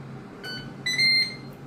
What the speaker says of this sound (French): Voilà, ça vient de biper.